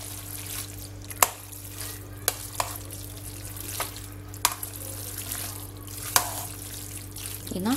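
Pasta with minced meat and vegetables being stirred in a pot, navy-style, giving sparse scraping knocks and soft clinks over a steady low hum, with no talking.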